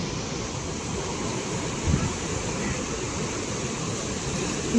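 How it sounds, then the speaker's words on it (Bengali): Sea waves crash against a wall near an upper fort, giving a continuous broad roar of surf with a few slightly stronger surges, close and loud with a windy edge. "এই ঢেউটা এসে ওই দেওয়ালে মারছে, আর ওই যে এরকম উঠছে ঢেউ।"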